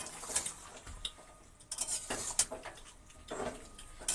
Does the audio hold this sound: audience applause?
no